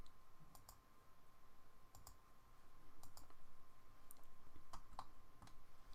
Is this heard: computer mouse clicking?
yes